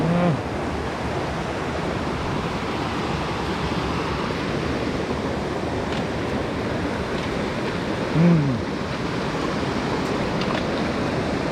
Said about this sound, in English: First creek crossing of this adventure.